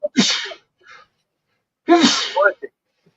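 A sharp sneeze bursts out, followed by a short pause and then a second, louder sneeze with a quick gasp at its tail, close and clear.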